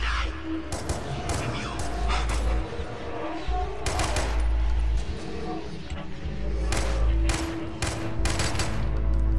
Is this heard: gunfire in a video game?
yes